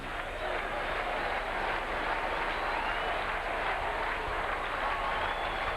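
A baseball stadium crowd at a 1992 Red Sox versus Athletics game chants the batter's name. It comes across as a continuous, distant roar of many voices mixed with applause, with no single voice standing out.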